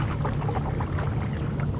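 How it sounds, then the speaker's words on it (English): Paddling a boat across open water, with a continuous splashing, rushing wash and a low rumble of wind over the microphone, steady and close throughout. "Let's go paddling."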